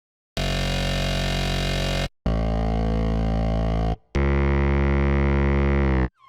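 Three long, loud distorted mid-bass synth notes for progressive house, made in FL Studio, with gritty, buzzing harmonics, separated by brief gaps, the last one falling slightly in pitch.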